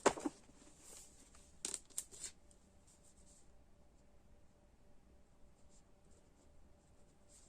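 Pen scratching on paper while accounting entries are written out, a few brief faint strokes near the start and then a quiet, hissy near-silence.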